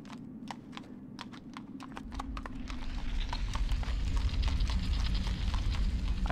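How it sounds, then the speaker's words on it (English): Horse hooves clip-clop in Shadow of the Colossus, a steady stream of light clopping steps over a low ambient rumble that swells gradually. No one speaks. "Horse does not want to go in here."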